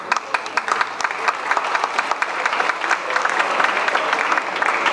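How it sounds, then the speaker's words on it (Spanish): Members of a National Assembly session break into applause, with crisp, individual claps close by over a dense, steady round of clapping that continues without pause. "Para él pido un aplauso, por favor."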